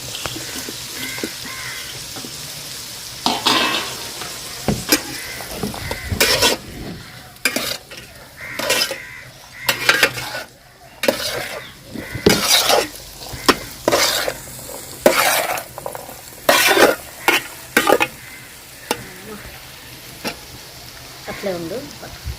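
Chicken stir-fries in a pan for fried rice: a constant sizzle under frequent loud bursts of spatula scraping and clattering against the metal, irregular and close.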